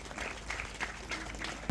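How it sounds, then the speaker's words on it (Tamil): An audience at a police station opening ceremony gives a short burst of applause, a moderately faint patter of many hands clapping together. "உங்களுடைய பலத்த கரகோஷத்தினை வழங்குமாறு கேட்டுக்கொள்கின்றோம்"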